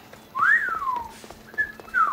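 A person whistles alone, starting with a loud rising-and-falling swoop and ending with two shorter, higher whistled notes, with light background noise.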